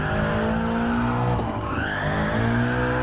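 A car with the wheel turned fully and throttle floored, engine roaring steadily while tires squeal and skid in a sustained slide, loud and close, with no talk over it.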